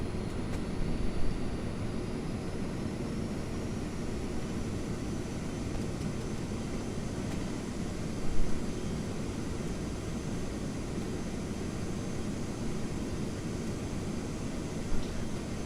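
Airbus A320 landing rollout in a full-size flight simulator cockpit, with a steady broad roar of reverse thrust and runway rumble holding level throughout, a few faint clicks and thumps over the continuous noise and no talk.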